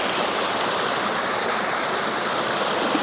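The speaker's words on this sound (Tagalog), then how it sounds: "Natawid pala tayo na ilog." A cold river stream crossed on a jungle trek to a waterfall rushes steadily, a dense, loud, continuous wash of flowing water close by with no voices.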